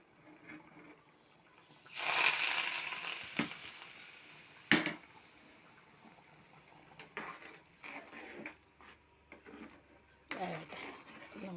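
Tempered mustard seeds poured into a simmering curry of Chinese potato and potato, a loud sizzling burst followed by quieter bubbling, clinks of a utensil and faint stirring.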